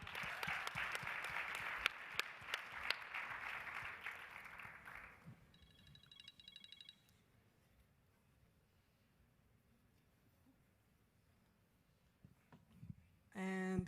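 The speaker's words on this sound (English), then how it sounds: "Let's give them some applause." Audience applause for a contestant at a live competition event, dense and steady clapping for about five seconds that then fades into a quiet room before a brief burst of noise at the end.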